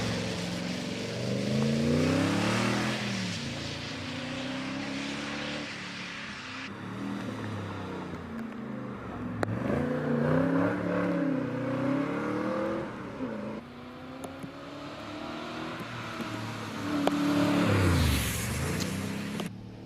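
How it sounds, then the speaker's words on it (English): A Morgan Plus 8 race car accelerates hard up the Prescott hill climb course, its engine climbing through several rising rev sweeps with gear changes in between, loud and close, then flaring once more near the end. "Here's Robert Toone, very successful in this Morgan Plus 8."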